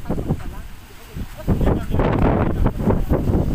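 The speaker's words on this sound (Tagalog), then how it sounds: "Oh, malakas ang hangin." Strong wind gusting across an open hilltop, a broad roaring rush that swells and buffets the microphone, loud and continuous with heavier gusts toward the end.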